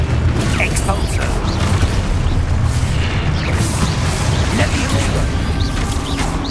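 Spell combat in the video game Hogwarts Legacy, with an Expulso explosion amid a dense, continuous wash of booms, crashes and magical bursts, with character voices mixed in.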